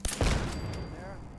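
Short burst of rapid gunfire at turrets in the video game Fallout 4, loud cracking shots over a second or so that trail into a ringing decay, with a voice speaking faintly underneath.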